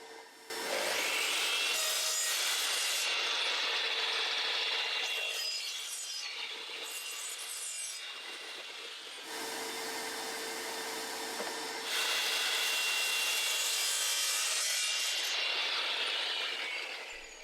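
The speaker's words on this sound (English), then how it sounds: "I cut a piece of plywood, then unscrewed the base plate from my planche base for my Makita router" A sheet of plywood being sawn by hand for a router jig, long rhythmic strokes in several close, loud bursts separated by brief pauses.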